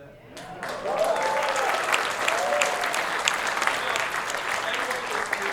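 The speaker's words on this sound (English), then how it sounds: "Yeah, you can cheer for that." An audience at a high school and Navy jazz band concert cheers and applauds, steady dense clapping with whoops rising and sustained throughout, close and loud.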